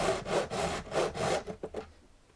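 A fret beveler file rasps along the frets of an acoustic guitar in about five steady back-and-forth strokes, close and gritty, then a few lighter scrapes before fading out.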